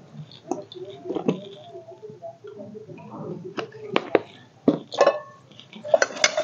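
A silver steel bowl being greased with white oil gives off light metallic clinks and taps, scattered and close, growing busier toward the end, with soft handling noise between them.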